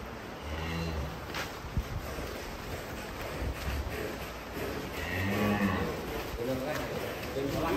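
Cattle from East Java at a cow show moo in several long, low calls, close and fairly loud, amid outdoor crowd noise and people talking.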